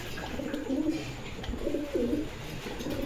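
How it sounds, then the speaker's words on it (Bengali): Damascene pigeons coo close by, two clear rolling coos rising above a steady background of other birds. "দামাসিন কবুতর দেখতে পাচ্ছেন, টপ কোয়ালিটি একজন দামাসিন"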